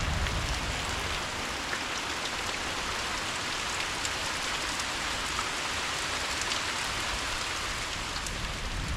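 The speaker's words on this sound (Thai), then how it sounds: "ฝนก็ยังตกอยู่คือเก่าล่ะ" Steady, heavy rain falls continuously, a dense hiss of drops on surfaces with no pauses.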